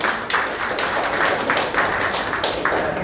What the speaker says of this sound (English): A big round of applause for both us